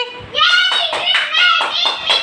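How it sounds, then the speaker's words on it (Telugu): Children clap rhythmically in a few quick bursts to cheer the winner of a ball-counting game, with excited young voices chattering over the claps. "జయస్విక విన్ అయిపోయింది క్లాప్స్ కొట్టండి"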